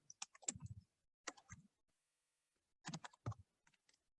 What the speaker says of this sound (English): So I'm just gonna type that in here.